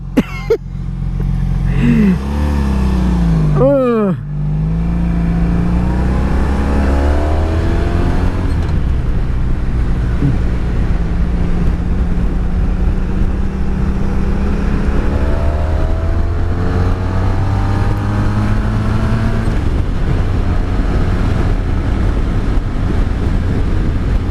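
A 1985 Honda Magna V65 VF1100C V4 motorcycle engine roars steadily throughout, revving up through gears with rising and falling pitch, loud and close, with wind rush behind it.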